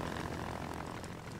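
A propeller plane drones steadily, a continuous buzzing engine sound with no other voices.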